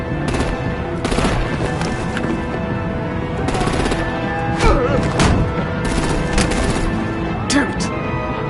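Gunfire in the video game Batman: The Enemy Within, dense bursts of shots over a continuous loud battle din with heavy booms, mixed with voices and action noise throughout.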